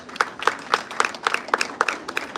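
An audience at a children's show claps in a quick, even rhythm, with about nine sharp beats in a row, moderately close and loud.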